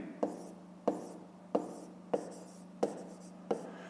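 A pen writes in a notebook during a fifth-grade math exercise: six evenly spaced scratchy strokes, each a sharp tap fading into a soft scrape, close and quiet with no talk.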